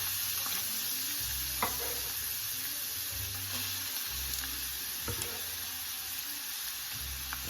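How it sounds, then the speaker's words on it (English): Chopped onion sizzles in hot olive oil in a big pot, a steady bright hiss with occasional scrapes and clinks of stirring, close and continuous. "We're gonna throw one chopped onion into this right now."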